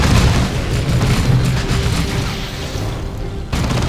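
A spore mine explodes in Dawn of War 2, a loud, heavy boom with a long rumbling tail of continuous blast noise and no voices over it.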